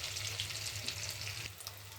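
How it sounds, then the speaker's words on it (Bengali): Prawns fry in hot oil in a pan with a steady, close, even sizzle and a low hum beneath, with no one talking. "চিংড়ি মাছগুলো ভাজা হয়ে গেছে হালকা ব্রাউন"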